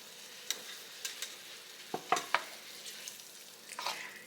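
Chicken, vegetables and cream of chicken soup are stirred together in a pan: a quiet bed of sizzling with a series of spoon scrapes and clinks against the pan, close and fairly soft, without talk.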